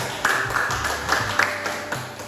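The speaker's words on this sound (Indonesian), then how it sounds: "Tepuk tangan untuk Atika." Students in a classroom clap together for a classmate in a steady, rhythmic beat, the claps close and fairly loud with voices joining along.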